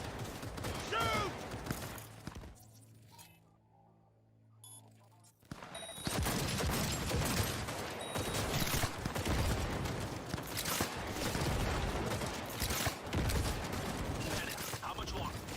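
Dense, sustained gunfire and mechanical clatter from a firefight in the video game Cyberpunk 2077, loud and continuous after a brief quieter lull, with a voice speaking over the noise.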